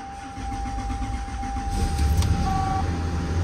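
A 1991 Lexus LS400 4.0L V8, just fitted with a new timing belt, cranks and catches, then settles into a steady running hum that grows slightly louder, with a brief high tone near the end.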